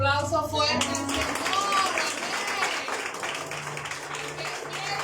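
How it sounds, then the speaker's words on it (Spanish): A church congregation claps together in a steady burst of applause lasting several seconds, with sustained tones and voices mixed underneath. "¿Cuánto le dan un aplauso fuerte al Señor?"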